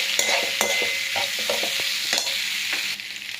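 Spices and dried chili powder with turmeric being stirred in a hot pan for a Tamil side dish, with scraping stirs over steady frying sizzle, no talking.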